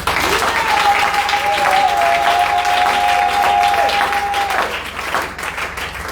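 A church congregation applauds Jesus with sustained, dense clapping and crowd noise. A voice rises over the applause partway through, then the clapping fades near the end.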